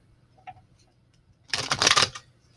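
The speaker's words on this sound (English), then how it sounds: "All right, so we're going to shuffle. These are the Romance Angel cards by Doreen Virtue." Deck of Romance Angel oracle cards by Doreen Virtue being shuffled by hand: a faint tap early, then a dense, bright riffle of card edges lasting about a second, close and moderately loud, with no talk.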